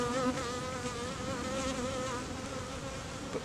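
Dense, steady buzzing of a crowded honeybee hive, many bees humming together at close range with a continuous wavering drone and no talking.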